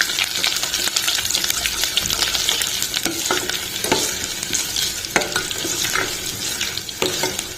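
Garlic cloves frying in hot oil with tempering seeds for a Telugu dondakaya pappu, a continuous close sizzle broken by sharp scrapes and clinks of a stirring spoon against the pan.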